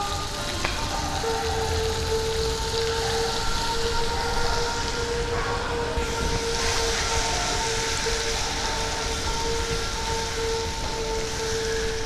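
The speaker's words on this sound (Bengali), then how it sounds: "রসুনটাকে ভালো করে ভেজে নেব।" Chopped garlic frying in a pan for a Bengali puti fish masala curry, giving a steady, dense sizzle that runs the whole time with a faint electrical hum beneath it.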